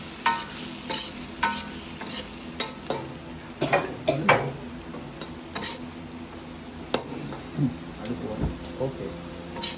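Spice powder sautéing in a pan for okra sambar: a frying sizzle under repeated scrapes and clinks of a spoon stirring against the pan, in uneven bursts, with no talk.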